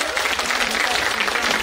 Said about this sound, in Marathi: त्यांच्यासाठी परत एकदा जोरात टाळ्या वाजवा.